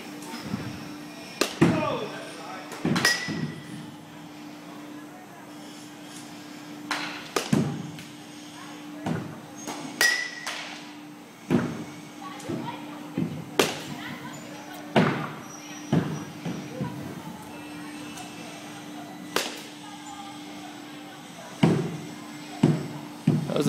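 Baseball bat striking balls during batting practice, sharp woody cracks repeating every second or two across the session, with a steady hum underneath and voices talking between hits.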